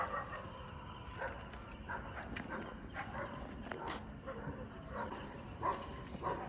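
Dogs bark and yelp in a scuffle at a distance, faint sharp yips and whimpers scattered over a low background hum.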